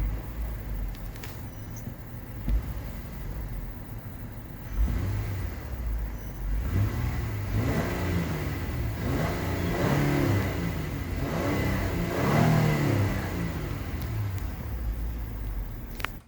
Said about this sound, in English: So let's go ahead and give it a few revs.